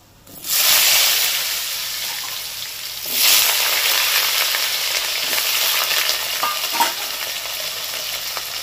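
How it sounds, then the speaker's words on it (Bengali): Diced potato cubes dropped into hot oil burst into a loud, steady sizzle that swells again after a few seconds as they are stirred, crackling continuously close by with no talk. "এইবার এর মধ্যে দিয়ে দিচ্ছি ডুমো ডুমো করে কাটা আলু"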